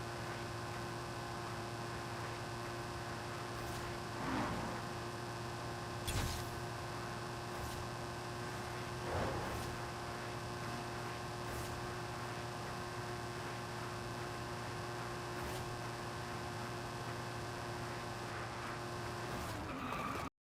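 A 1968 Dart Hemi Superstock in Forza 5 drones along at high speed, its engine a steady, even hum with faint swells and no voices over it.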